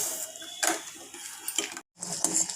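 Milk, ice cream powder and sugar being stirred together in a pan, with a spoon scraping and clinking against the metal in short, close strokes, pausing briefly before the stirring starts again.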